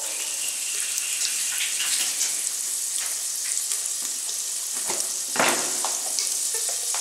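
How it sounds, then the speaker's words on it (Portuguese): Carne seca, dried salted beef, sizzles and crackles in a hot pan, a steady fry with occasional louder pops and stirring scrapes, fairly close and without talk. "Então vou aqui fritar essa carne seca, que tá cheirosíssima"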